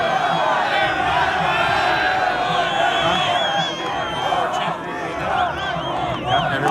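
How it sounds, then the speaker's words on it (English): A golf gallery crowd at a playoff hole calls out together, a dense babble of many voices chanting and shouting that holds steady, loud and close throughout. "You can hear the crowd saying they want another hole"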